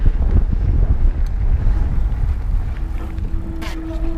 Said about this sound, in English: It's kind of windy going this way